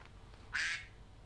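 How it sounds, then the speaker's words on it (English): A single short, bright duck quack rises briefly and loudly over a low, steady background hum, then fades away. "there's the duck."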